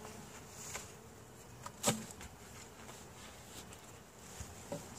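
Carniolan honey bees inside a hive give a faint, steady buzz, with a few brief louder knocks and clicks over the hum and no talk.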